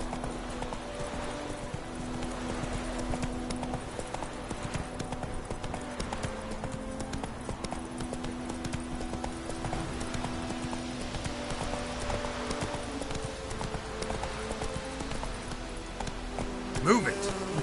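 Roach, a horse in The Witcher 3 video game, trotting: steady rhythmic hoof clip-clops under a continuous buzzing ambient game soundscape with a faint tonal hum, moderately quiet throughout.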